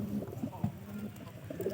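Pigeons coo softly and repeatedly in a loft where new birds and squabs are kept, low murmuring calls continuing steadily against faint background noise.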